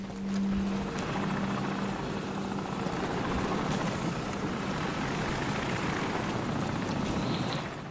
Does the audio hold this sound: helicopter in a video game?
yes